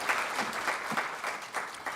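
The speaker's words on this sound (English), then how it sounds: "I think it deserves a round of applause there." Audience at a University of Nairobi event applauding, a brief burst of many hands clapping at moderate volume, fairly even throughout.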